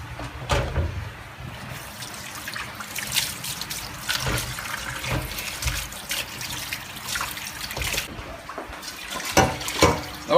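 Water trickling and splashing in a kitchen where cod is being prepared, an uneven running stream with intermittent splashes and clinks, fairly close, no talk over it.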